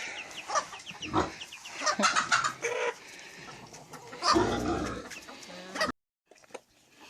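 Several chickens cluck and squawk close by in a busy flock, with brief rustling before a sudden quiet moment.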